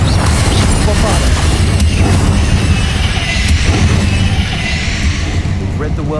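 Bombarda blasting spell explosions during combat in Hogwarts Legacy, a dense run of booming bursts and crashes over a continuous loud rumble, with shouted voices layered on top.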